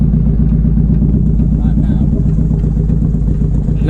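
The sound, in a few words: Nissan Pulsar GTiR engine running after first start in 7 years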